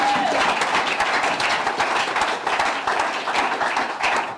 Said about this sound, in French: Oh, acclamons un peu le Seigneur.